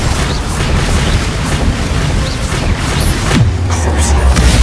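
Bombarda explosion spell in Hogwarts Legacy, heavy booming blasts in close, loud combat, ending in a deep rumbling burst with a low falling tone, with voices in the background.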